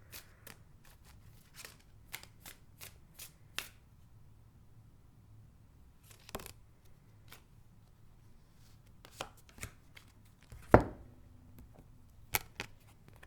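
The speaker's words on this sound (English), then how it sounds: "let's get more cards here" Tarot cards are handled and shuffled close by, giving quiet, scattered snaps and soft riffles with irregular gaps and one sharper slap near the end.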